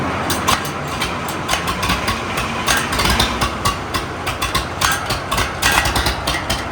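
An old Case two-cylinder tractor engine runs steadily up close with a loud, continuous rattling chug and irregular knocking pulses, with no talk over it.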